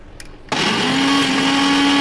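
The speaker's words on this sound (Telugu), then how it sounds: "మళ్ళీ మిక్సీ గిన్నె అనేది పెట్టేసుకుందాం" A mixer grinder blending chili and garlic chutney starts abruptly and runs loudly and steadily, with a sustained motor whine and whirring blades.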